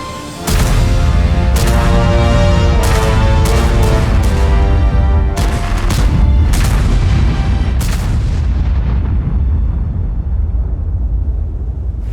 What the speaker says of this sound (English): The sound of shots will become deeper and more authentic.